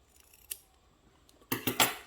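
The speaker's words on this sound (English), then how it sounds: "I like to do triangle trims first off the edges, and then I'm just making this a little bit shorter." Scissors trimming the edges of fabric for a caddy sewing project: a faint snip early on, then a burst of several quick, crisp cuts close up near the end, with no talking.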